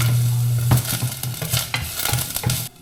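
Onions hitting a pan for a sardine and misua soup, sizzling loudly and steadily with a few scraping stirs, close by, then cutting off abruptly at the end.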